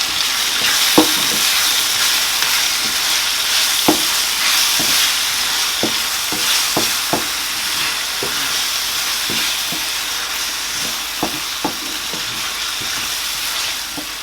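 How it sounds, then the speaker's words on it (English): Mixed sweet pepper frying in a pan, a steady sizzle with scattered clicks and scrapes of stirring throughout. "while we are frying our mixed pepper"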